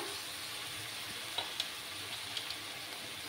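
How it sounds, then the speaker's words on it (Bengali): Radish greens frying in a pan, a steady soft sizzle with a few faint clicks of stirring, quiet and close with no talking. "মূলো শাকগুলো দিয়ে দিলাম, দিয়ে ভালো করে কষিয়ে নেব।"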